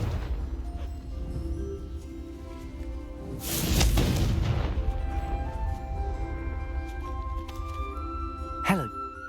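A Confringo fire spell explosion in Hogwarts Legacy bursts out amid game ambience, one loud booming blast in the middle that decays into rumble, followed later by a short whooshing swipe.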